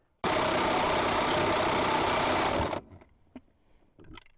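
A power impact wrench working on the wheel nuts of a Case 1845C skid steer gives one loud, steady hammering burst of about two and a half seconds, then stops, leaving faint clinks and shuffling.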